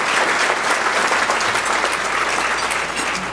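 An audience at a speech by Arizona Governor Doug Ducey breaks into sustained applause, a dense, even patter of many clapping hands that holds steady for several seconds without speech over it.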